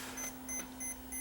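A faulty Sony CCD F401 8mm camcorder under repair gives four short, faint high beeps at a regular pace over a low steady electrical hum.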